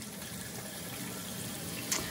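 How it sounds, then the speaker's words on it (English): Water rushes steadily through a newly installed toilet fill valve into the tank, a constant close gushing fill with a faint brief clink near the end. "Get some water flowing through that bad boy."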